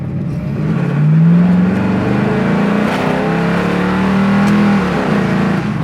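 A 1974 Dodge Challenger accelerating up to speed on the road, its engine note loud and close, climbing steadily in pitch through a couple of smooth upshifts with no voices.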